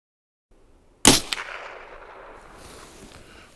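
A single sharp .22LR rifle shot fired without a suppressor, one loud crack with a brief echo and a lingering tail of outdoor ambience afterward.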